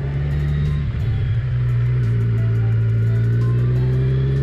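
A Kawasaki Z900 motorcycle engine revs up close, rising from a steady idle into a higher sustained drone that holds loud and even.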